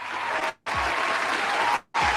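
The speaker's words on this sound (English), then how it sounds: "Round of applause." An audience bursts into a round of applause, loud dense clapping that cuts out abruptly twice and resumes, with no voices over it.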